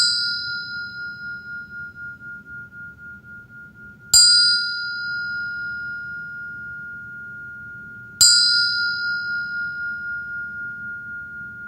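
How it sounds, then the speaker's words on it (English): A meditation bell rings three times, about four seconds apart, each clear bright strike leaving a long, slowly fading resonant hum in an otherwise quiet room. "So with that, I'll sound this bell."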